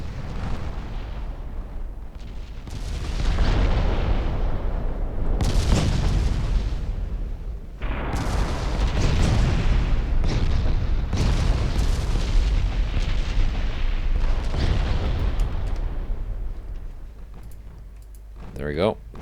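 Warship guns fire shells in Ultimate Admiral Dreadnoughts, a naval battle game: a string of heavy, loud booming salvos several seconds apart, each with a long rumbling tail, with someone talking over them.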